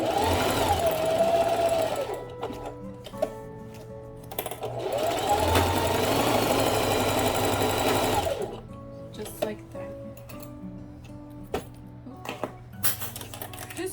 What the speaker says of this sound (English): I'm just going to continue sewing everything else